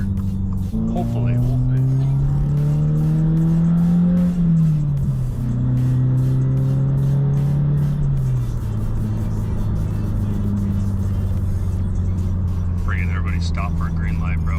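A Ram pickup truck's exhaust growls loudly and close by, the engine pitch climbing in revs, dipping, climbing again, then settling into a steady deep drone, with brief higher bursts near the end.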